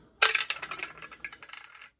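Two dice are rolled for a board wargame, clattering sharply on landing and then rattling and skittering in quickening small bounces before settling, close and alone.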